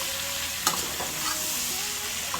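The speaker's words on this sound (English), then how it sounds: "I'm going to stir it" Ackee with black pepper is stirred in a pot under a steady soft sizzle, with a couple of light scraping knocks from the spoon.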